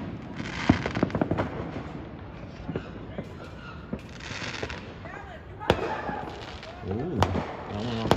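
Fourth of July fireworks burst repeatedly, with sharp cracks and booms scattered through a steady crackle, some distant and rumbling, while people talk underneath.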